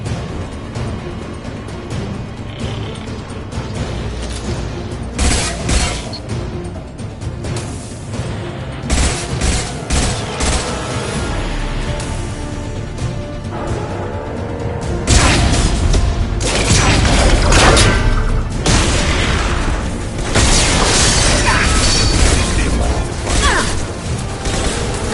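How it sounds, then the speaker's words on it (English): Rifle gunfire and combat in the Mass Effect 2 video game, loud repeated booming shots and crashing impacts over a dense, busy battle soundscape, growing heavier in the second half. "Firing a high-impact shot."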